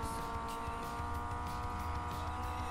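Cars drift in the Need for Speed Payback video game, a Ford against a Honda. A steady, droning engine roar with a faint tire hiss runs continuously and fairly quietly, with no pauses or talk.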